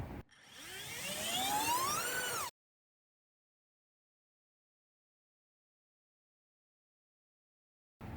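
Racing drone motor spinning a three-blade 5040 propeller on a 30 amp ESC, a loud whine that sweeps sharply upward in pitch over two seconds, cuts to silence, then briefly returns at the end.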